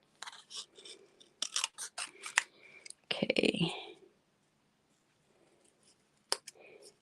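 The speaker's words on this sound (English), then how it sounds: "The whole key to fussy cutting is moving the paper." Scissors snipping paper during fussy cutting for a handmade birthday card organizer kit, a run of quick close crisp cuts with short pauses, one brief spoken word among them.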